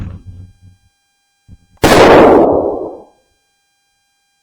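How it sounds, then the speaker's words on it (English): A single loud shot from a .22 target pistol during a recoil comparison test, a sharp close crack with a short decaying tail, preceded by faint low rumbling handling noise. "And I'm going to do the comparative recoil test next with the 22 target pistol."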